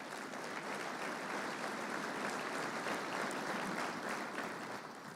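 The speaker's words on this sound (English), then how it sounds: "Please give him a round of applause." Applause fills a defense summit hall, a steady, even roar of many people clapping that holds at the same level from start to finish with no voices over it.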